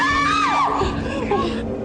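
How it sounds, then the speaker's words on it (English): A person screams in fright during a ghost-hunting EVP session at Chillingham Castle: a loud, wavering high-pitched cry that slides downward over a couple of seconds, close by. "I jumped up and screamed"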